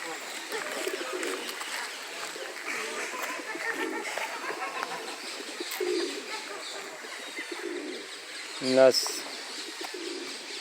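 Pigeons and doves coo and chirp in an outdoor bird park in Düsseldorf, a soft steady chorus with a brief louder call near the end, while people talk faintly in the background.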